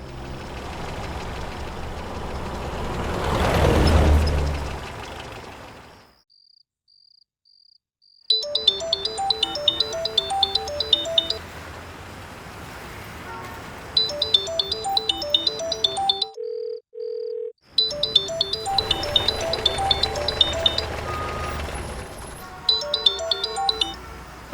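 A mobile phone ringtone plays in bursts of bright electronic melody, repeating several times with short pauses between, preceded by a swelling rush of background sound.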